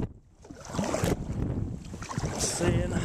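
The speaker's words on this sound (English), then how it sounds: "been just paddling straight the whole time" A kayak paddles across open water in Alaska, with a steady wash of water and strong wind buffeting the microphone throughout.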